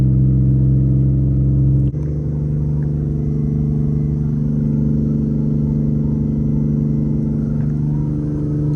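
An Infiniti G37 cruises at steady speed, its engine and road noise forming a loud, constant rumble with a slight shift in tone early on, no voices heard.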